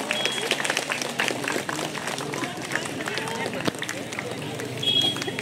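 An outdoor crowd at a Deusi closing ceremony in a park claps steadily and densely while a singer is honoured with a certificate, with a voice speaking over the continuous applause.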